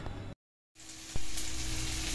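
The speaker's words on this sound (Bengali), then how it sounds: "আর এই যে মাছের জন্য মশলা কষিয়ে নিচ্ছি" Spice masala for fish curry sizzles in a pan as it is sautéed, a close, steady frying hiss that cuts out briefly, then returns with a light clink of a stirring utensil.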